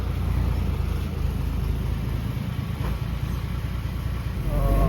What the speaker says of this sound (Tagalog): ayan, garbage truck.